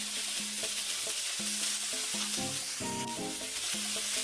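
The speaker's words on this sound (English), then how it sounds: "When the chicken grills nicely, apply sauce on the surface with a brush." Chicken yakitori skewers sizzling over a grill, a steady close crackling hiss with faint clinks and tonal background sounds, no voices.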